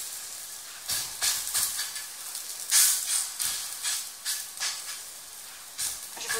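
Rezzat el kadi, a coiled dough already holding fat, cooks on a well-heated griddle plate over medium heat. A steady soft sizzle and hiss rises in repeated brief louder surges, with no talk.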